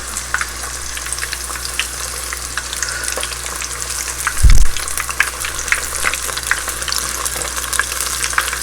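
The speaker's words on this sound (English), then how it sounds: "Obviously this is hot boiling oil." Homemade breaded chicken strips fry in hot boiling oil, giving a loud, continuous crackling sizzle with scattered pops and one brief low thump midway, close up and without talk.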